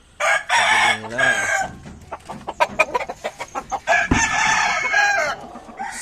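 Backyard coop roosters of breeds like White Kelso, Sweater and Boston crowing loudly and close, with bursts of clucking between the long crows.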